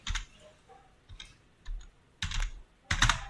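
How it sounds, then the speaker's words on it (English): Bursts of keyboard typing on a computer while searching a 3D model site for a bridge, several short clusters of clicky keystrokes separated by pauses, fairly close and alone. "I type bridge and search for it."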